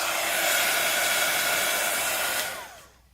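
A heat tool blows a steady, loud hot-air rush over embossing powder on a craft piece, holding evenly for a few seconds before switching off and winding down, with no talking.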